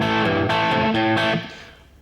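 A few strummed, sustained electric guitar chords played through a plate reverb effect ring out with a shimmering tail that fades after the last strike.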